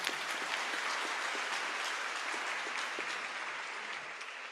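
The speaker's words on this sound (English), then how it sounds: "let's give another round of applause" An audience at a natural history collections and biodiversity conference plenary gives a steady round of applause, moderately distant and fairly even, fading slightly at the end with no talk.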